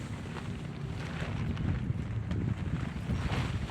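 Wind blows steadily across an outdoor campsite where a lightweight two-person backpacking tent is being pitched, a loud continuous rumbling roar buffeting the microphone with no pauses.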